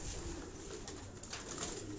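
Faint, steady cooing and soft bird calls from trained flying pigeons on a doctor's rooftop in Karachi Defence, heard at a distance over a continuous hiss of outdoor background noise.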